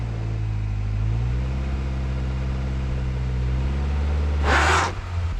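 Ford Fusion SE sedan running with a manual clutch, a steady low engine drone holding close and even throughout, then a short burst of hiss or rushing air near the end as the note dips.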